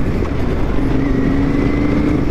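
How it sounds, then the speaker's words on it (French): A 1999 Yamaha TDM 850 motorcycle with an 850 cc twin-cylinder, 77 hp engine rides on the road, giving a loud, steady engine drone whose pitch climbs slightly, with no talking. "j'ai pris une Yamaha TDM de 1999. Moteur bicylindre de 850 cm3, 77 chevaux."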